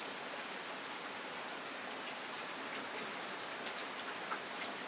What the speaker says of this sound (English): rinse out my cup